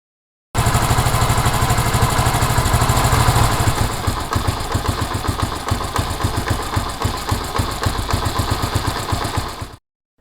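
A Honda CD70 motorcycle engine idles with a steady, rapid putter during carburetor idle mixture adjustment, then its revs drop partway through and it keeps chugging more slowly until cutting off.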